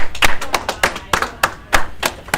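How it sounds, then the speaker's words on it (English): An audience claps at a history class, sharp individual hand claps in an irregular burst, close and distinct rather than a blended roar. "Alright, clap it up, clap it up, clap it up, clap it up."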